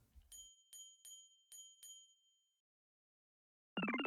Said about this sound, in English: you play the special effect, it rings the bell of the bicycle